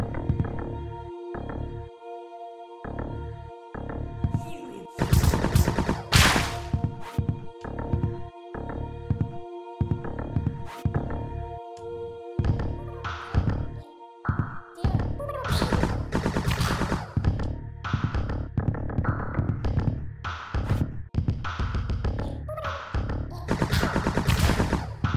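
Rapid gunfire from FREAKHUNTER, a Windows 95 screensaver game, crackles in dense bursts over a droning electronic music loop, the shots growing busier and louder in the second half with no talking.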